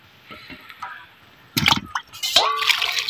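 Hot water is tipped out of a pot in a village kitchen, with sloshing and splashing that starts quietly and grows into a loud, spattering pour in the second half.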